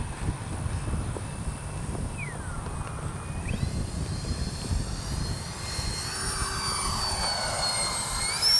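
An X-Fly J-65 radio-controlled model jet makes a low pass, its turbine whine rising and sweeping from a distant hiss to a louder close roar, with no talk.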